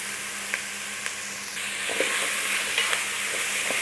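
Onion and celery sizzling gently in a frying pan with a pinch of salt, a steady soft crackle broken by a few distinct scraping stirs of a utensil against the pan, close up and with no talking.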